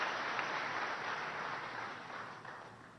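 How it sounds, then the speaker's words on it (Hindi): An audience at a public address by Chief Minister Shivraj Singh claps in steady, fairly distant applause that slowly fades over three seconds, with no talk on top. "मैं मोदी जी का अभिनंदन करता हूं, आप भी तालियां बजा के स्वागत करें"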